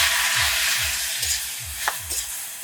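Jujube fruits dropped into hot oil with bay leaf, five-spice and whole garam masala, giving a steady bright sizzle with a few clicks of a utensil against the pan, close and unaccompanied by talk.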